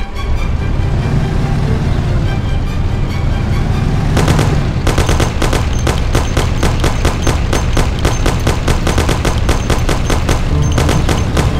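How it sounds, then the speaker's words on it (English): A Thompson submachine gun rattles in the game Mafia, long fast bursts of loud, evenly spaced shots starting a few seconds in over a rumbling vehicle engine. "Take my Thompson. You and Sam shoot them."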